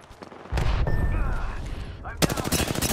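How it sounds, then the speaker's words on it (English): Hostile gunfire in an Apex Legends ranked match bursts in loud, rapid volleys aimed at the player, mixed with game effects and a short voice line. "They're shooting at me."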